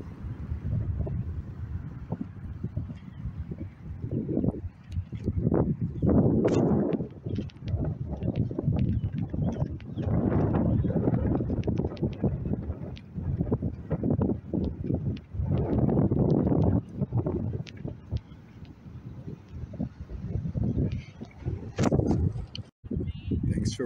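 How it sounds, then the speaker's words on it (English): Strong wind buffets a nearby microphone in rough, continuous gusts, low and rumbling, with brief lulls throughout, during an outdoor trash cleanup in Back Bay. "The wind is blowing the trash right out of my bucket."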